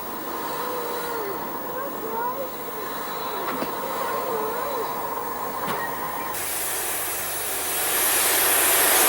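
Merchant Navy class steam locomotive gliding into a station on the Axminster to Lyme Regis branch line area, Exeter bound: a rumbling train approach with wheel squeal and hiss, rising toward a loud rushing roar at the end.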